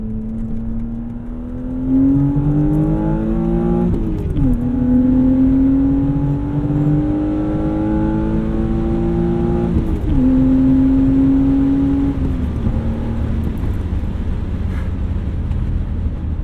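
A BMW E36 M3 engine pulls hard on track, its tone climbing through the revs, dipping briefly at two gear changes and climbing again, loud and close with wind rush over it.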